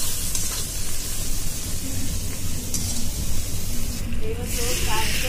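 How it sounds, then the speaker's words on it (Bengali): Ground turmeric and chilli powder frying in a pan for chicken curry, a steady close broadband sizzle running throughout with a brief harsher burst near the end, while a person speaks over it. "এবারে মশলাটা আমরা ভালো করে ভেজে নেব"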